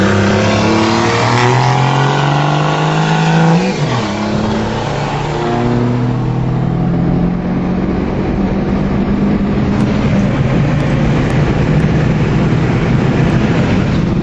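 A Dodge SRT-4 Neon accelerates hard in a street race against a Dodge Ram 2500 turbo, its engine loud and close from inside the car, rising in pitch through the gears with a brief dip at a shift.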